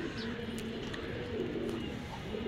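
Rajshahi Giribaz pigeons coo softly in a loft, low murmuring calls over a steady background hum, a brief faint chirp mixed in.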